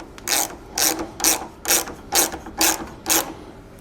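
Ratchet wrench tightening bolts on a LeoVince LV-10 slip-on exhaust for a Triumph Speed Triple RR motorcycle, seven evenly spaced loud clicking bursts, close and alone.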